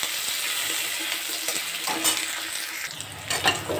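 Chopped garlic and tomato are stir-fried in a pan, with a continuous crackling sizzle and a few scraping stirring bursts near the end, close and clear with no voices.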